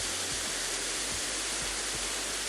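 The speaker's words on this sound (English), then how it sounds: "this is waterfall number 3" Waterfall number three on the Guanga Waterfalls hiking trail in Asturias, a steady, loud, broadband rush of falling water that never lets up, with no voices over it.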